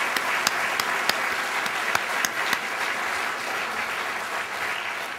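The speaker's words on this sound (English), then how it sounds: "let's give all 10 a round of applause" An audience at a coastal entrepreneur awards ceremony claps for all ten finalists, a full, sustained round of applause with a few sharp individual claps standing out, no talking.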